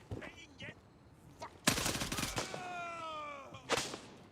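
Rapid automatic gunfire from a magazine being emptied in the video game Gray Zone Warfare, a loud dense burst of overlapping shots lasting about a second, followed by ringing tonal tails and a later single sharp crack.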